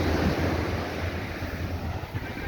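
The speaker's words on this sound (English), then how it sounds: "Now approaching Browns Beach." Waves wash onto Browns Beach on Carlisle Bay in Barbados, a soft, continuous surf rush mixed with wind buffeting the microphone, heard alone with no voices.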